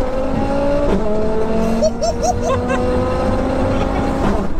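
A turbocharged car accelerates hard, its engine roaring loud and steady with rising pitch sweeps and sharp breaks at the gear changes.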